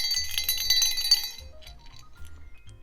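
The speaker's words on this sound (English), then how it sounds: "Here we have a jingle bell. Got a bit of a jingle." A small jingle bell rings with bright, shimmering metallic chimes, a dense burst that fades into a few lighter jingles, close and clear, accompanied by soft handling knocks.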